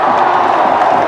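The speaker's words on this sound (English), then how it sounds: "it'll be greeted by moans and groans from the New Zealand crowd" A large stadium crowd at a New Zealand one-day international cricket match reacts with a loud, sustained collective groan at a batsman's dismissal, dense and close throughout the short moment.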